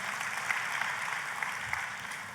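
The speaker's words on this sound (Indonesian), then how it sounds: "Tepuk tangannya yang paling meriah buat Tuhan kita." A church congregation claps together during a worship service, a broad wash of many hands heard at a distance, fairly quiet and even with a few sharper claps standing out, no talk over it.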